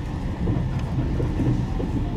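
Limited express Kamome No. 24 pulls in at platform 4 of the new Nagasaki Station platforms, heard as a steady low rumble and rolling wheel noise with no talk over it.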